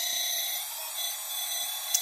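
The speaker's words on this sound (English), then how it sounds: "So that's the hydraulic pump started in." The hydraulic pump of a CSMI RC hydraulic excavator runs with a steady, high-pitched electric whine, constant and close, with a tiny click near the end.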